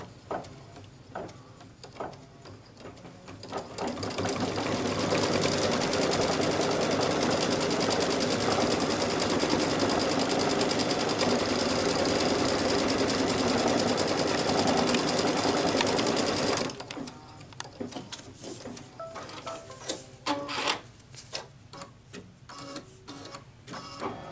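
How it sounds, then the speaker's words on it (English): An embroidery sewing machine stitches the outline of fabric leaves, a fast, even mechanical chatter that runs steadily for about twelve seconds, then stops, leaving softer clicks and handling sounds. "the design wants me to stitch out the little leaves, and I'm just going to run the outline for the leaves"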